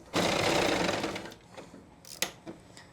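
A sewing machine stitches along a pant leg near the hem with a steady, loud mechanical whir. It slows and stops about halfway through, and a few light clicks and taps follow.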